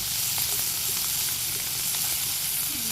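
Fish and onions fry together in a pan with a loud, dense, unbroken sizzle and hiss, close by and with no talking.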